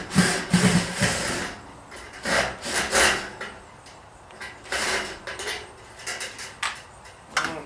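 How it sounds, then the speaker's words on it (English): Screws being driven into wood while installing LED strip lights in a workshop, heard as bursts of rough grinding and rubbing whir separated by brief pauses, close and fairly loud with no talking. "Enjoying putting all these screws in."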